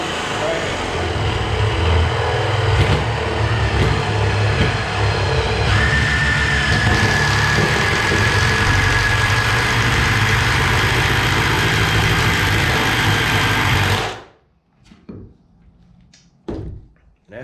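A drill with a spring-loaded boring bit cuts into wood, giving a loud, steady whirring grind that holds for about fourteen seconds and then stops abruptly, followed by a few faint knocks and handling sounds.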